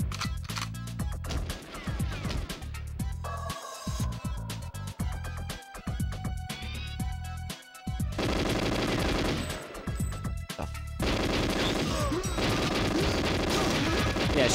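Rapid bursts of automatic gunfire and single shots in GoldenEye 007, loud and dense. Stretches of sustained firing alternate with brief pauses, and later passages turn into a continuous roar of shots.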